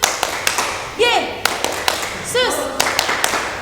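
Children at a Sunday school service clap their hands in a steady rhythm, close and crisp, while a voice sings or chants over the clapping.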